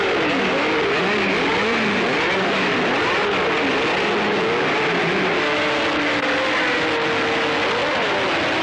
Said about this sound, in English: The cars rolled into their grid positions.